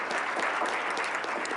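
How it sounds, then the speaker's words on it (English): A business meeting audience applauding a student, a brief, even wash of many hands clapping at moderate distance, steady throughout with no voices over it. "Let's give her a round of applause."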